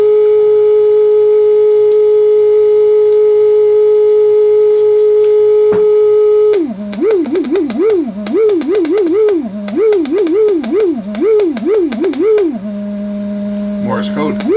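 Morse code beeps from a vintage Superscope C202LP cassette recorder: a steady held tone, then a rapid run of keyed dits and dahs in a wavering pitch, ending on a lower sustained tone.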